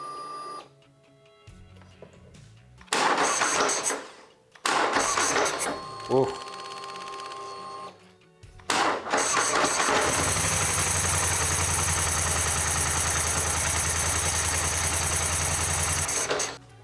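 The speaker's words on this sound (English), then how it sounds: "hopefully the battery has enough juice to kick this thing over" A 2015 Polaris ATV engine cranks in short bursts, catches, then settles into a loud steady idle with a whining mechanical hum; a person briefly exclaims.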